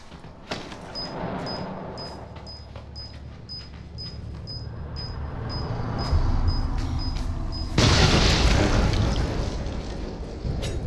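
Bomb blast in Resident Evil 7, a sudden loud burst that swells into a broad roaring boom after a stretch of tense rumbling game ambience with a steady repeating high beep.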